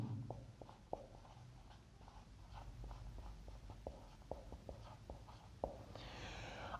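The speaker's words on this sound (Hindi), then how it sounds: "यहां पर लिख देता हूं" Pen or marker writing by hand on a board, a run of short scratchy strokes and taps in an irregular rhythm, close and fairly quiet over a low room hum, with no talking.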